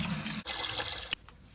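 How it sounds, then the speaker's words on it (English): Tap water runs steadily into a container being filled as drinking water for a market steer, a loud continuous rushing splash, briefly interrupted, then cut off near the end. "We're gonna fill up their water"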